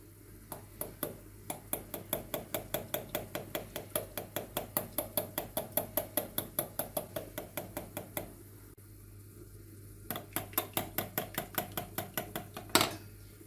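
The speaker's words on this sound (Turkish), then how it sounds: "güzelce pürüzsüz oluncaya kadar bu şekilde çırpıyorum" Rapid, steady metallic tapping of a whisk against a bowl, whisking a mixture smooth for chicken orzo soup, continuing in a long rhythmic run, pausing briefly, then resuming, close and clear.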